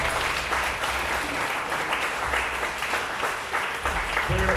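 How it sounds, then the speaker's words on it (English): A crowd at a Juneteenth community program applauds a young girl, a steady, dense wash of clapping that holds evenly throughout with no voices standing out. "Please give this lovely young lady a few rounds of applause."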